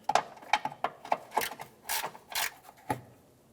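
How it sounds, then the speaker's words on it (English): A ratchet and socket spin out a 10mm bolt on a 2007-2012 Nissan Versa during washer reservoir replacement: a series of quick, close clicking ratchet strokes in an uneven rhythm, with a few longer rasping pulls. "I'm going to use our ratchet and socket. Go ahead and spin that out and remove it."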